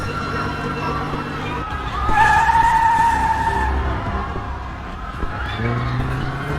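In the video game 60 Days of Us, a car engine fires up and revs with a rising whine and tire squeal, a short loud burst over a steady background game hum.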